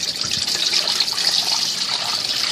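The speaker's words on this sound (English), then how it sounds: "We're going to cover it with some water." Water pouring from a tap into a pot holding half a ham, a steady splashing gush at moderate loudness with no talk over it.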